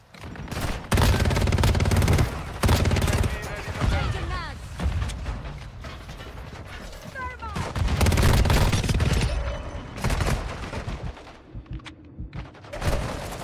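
Guns fired in Warzone: heavy, close bursts of automatic fire and booming shots in several loud volleys, broken by brief lulls, with players talking over the shooting.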